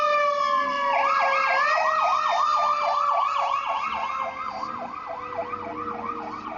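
A fire engine siren wails, rising and falling in steady repeated sweeps, moderately distant, over a low background of city traffic in Boston.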